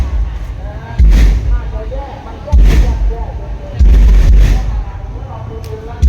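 Heavy booming drum hits thud in a slow repeating pattern, loud and close, with muffled crowd noise and chatter underneath.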